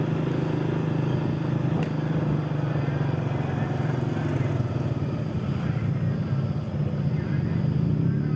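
Congested traffic crawls along the road to Kemuning near the tea plantations. Car and motorcycle engines give a continuous close rumble and drone with no pauses, and faint voices mix in.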